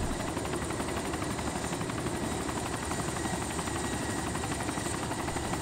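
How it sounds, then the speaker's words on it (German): Helicopter in the DayZ video game, a steady rhythmic rotor thump with engine whine, continuous and moderately loud throughout with no talking. "Alter, der Heli ist nicht mehr zum Steuern."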